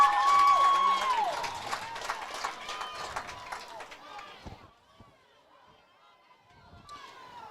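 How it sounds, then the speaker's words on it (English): A home crowd at a high school varsity football game cheers and roars loudly at first, then fades into distant chatter and scattered shouts, with a commentator talking over it. "Teague Smith firing up the home crowd here."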